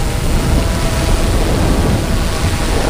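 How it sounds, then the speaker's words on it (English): Strong wind blows outdoors among trees where drones hover in high winds, a steady, loud, full-band rush with microphone buffeting that runs without a break for the whole stretch. "That wind you hear is not from the rotors. That's the wind we're in."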